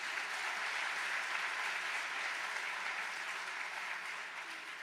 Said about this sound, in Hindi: एक बार भक्ति पथ नॉर्थ अमेरिका की पूरी टीम के लिए ताली बजाओ।